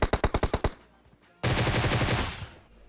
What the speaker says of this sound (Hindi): अब ये लोग हल्की फुल्की फायरिंग करते हैं यार